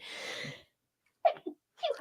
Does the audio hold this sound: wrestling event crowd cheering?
no